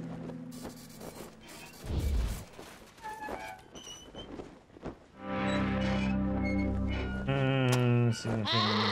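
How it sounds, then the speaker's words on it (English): A goat in the video game Wasteland 2 lets out loud, harsh, drawn-out bleating screams in the second half, rising and wavering, after earlier mechanical clatter and a thud. "Is that normal for a goat to scream like that? It truly is an awful sound."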